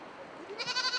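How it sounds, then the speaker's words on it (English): A goat bleats once in Tibet, a wavering nasal cry rising over faint background noise. "We also visited a family that raises goats."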